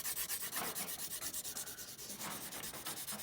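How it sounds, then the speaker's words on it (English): A pencil's graphite is scrubbed back and forth over the back of a sheet of paper, producing a rapid, regular train of close, dry rubbing strokes, each a short scratchy swish, with no talk. "We're basically covering the back in graphite,"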